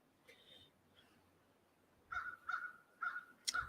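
Faint crows caw several times in a quick series, fairly distant, with a quiet background.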